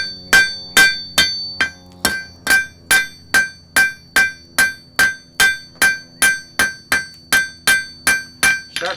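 A blacksmith hammering hot iron on an anvil to draw out a point, with about twenty evenly spaced, ringing metallic blows, loud and close.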